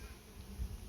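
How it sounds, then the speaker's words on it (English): A low, continuous buzz of many calm bees around a hive hums steadily, fairly faint, with no voices. "Bees are very calm today."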